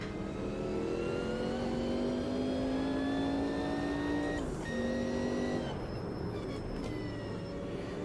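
A Group C race car engine in the game Automobilista 2 growls steadily, pitch climbing as it revs, then briefly drops and rises again after a gear change, with rumbling road noise underneath.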